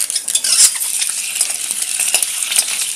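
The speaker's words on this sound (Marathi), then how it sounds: "सगळ्या अंड्यांना अशी पाडून घेतलेली आहे आणि आता आपण ही तेलामध्ये सोडणार आहोत" Scored boiled eggs for Malvani egg masala fry in hot oil, giving a bright, continuous close sizzle with light spatters and small clinks of utensils.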